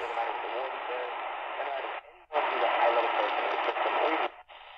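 AM broadcast on a SilvaBRYSON AM FM weather band radio tuned to station 540 WAUK Jackson, Wisconsin, a narrowband, tinny talk signal with a short dropout midway and another near the end.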